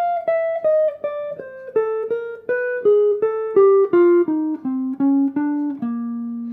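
Clean jazz guitar line played slowly, about sixteen evenly spaced picked notes weaving down through the changes and ending on a sustained low note, steady and close with nothing else heard.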